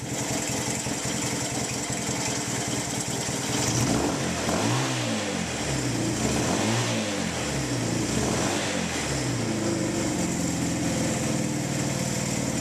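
A Honda CB200 motorcycle engine, an old bike being built into a cafe racer, idles steadily and rises through several rhythmic revs and drops, loud and close with no talking.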